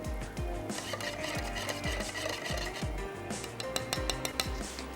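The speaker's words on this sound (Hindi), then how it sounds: "तो पहले मैं इसको स्पून से अच्छा सा मिक्स कर लेती हूँ।" A spoon scraping and clinking in a bowl as ingredients for a vegetable dish are mixed, a quick repeated rhythm of close metallic strokes with no talking.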